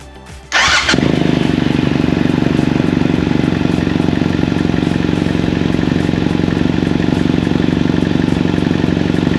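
BMW F800GS motorcycle engine after timing chain replacement cranks briefly, catches and settles into a steady, loud, close idle that runs evenly for several seconds with no voices.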